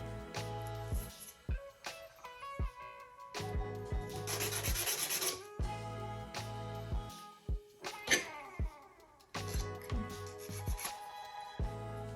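A small wooden piece for a miniature chaise longue is hand-sanded with quick, close rubbing strokes, irregular scratchy passes with brief pauses between them.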